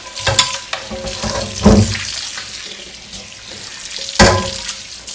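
Tap water runs over a carbon steel pan as it is rinsed, giving a steady close splash. The pan knocks and clanks a few times against the sink, and no one talks.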